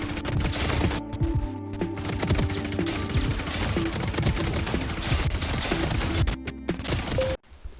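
Rapid, dense gunfire from a Spectre submachine gun in the Valorant video game, with bursts of close, loud shots running almost continuously and breaking off near the end.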